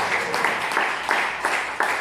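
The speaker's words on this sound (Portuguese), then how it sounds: "batendo uma linda salva de palmas para Jesus" A church congregation clapping during a worship service, rhythmic group claps at an even beat, fairly close and moderately loud, with some voices underneath.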